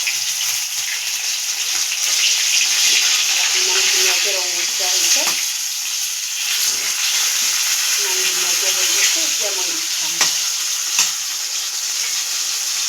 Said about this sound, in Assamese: এতিয়া মাছটো উল্টাই দিম অলৰেডি মোৰ মাছ ফ্ৰাই হৈ গ'ল